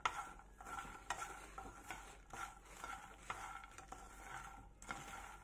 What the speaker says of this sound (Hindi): और अब एक बार फिर इसे अच्छे से मिक्स कर देंगे।